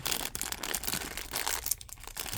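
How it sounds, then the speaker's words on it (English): Loud, close crinkling and rustling of plastic as a bag is torn open, with bursts of crackle and brief pauses. "let's open up bag number 1"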